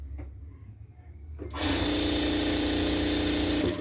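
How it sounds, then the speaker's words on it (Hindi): Sewing machine stitching a double seam on a salwar, running loud and steady after a short quieter stretch at the start. "इसमें डबल सिलाई लगा लीजिए, बस वही प्रोसेस है।"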